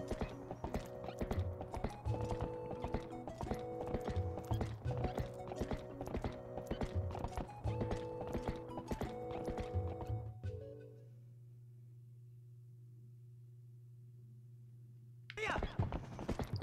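Horse hooves clip-clop in a steady rhythm in The Legend of Zelda: Twilight Princess, over game music, then stop for a few seconds of quiet hum before the game sound resumes.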